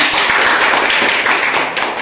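Kindergarten children clapping in a classroom group on National Education Day, a loud, dense burst of close, uneven hand claps that keeps going steadily.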